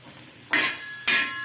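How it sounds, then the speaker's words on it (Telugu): Baby bitter gourd (chitti kakarakaya) being stirred and fried in a pan, with two short bursts of scraping stirring over a soft, steady sizzle, close and alone. "ఇలా ఒకసారి బాగా కలుపుకోవాలి ఇవి మనకు కలర్ చేంజ్ అయ్యే వరకు బాగా వేయించుకోవాలన్నమాట"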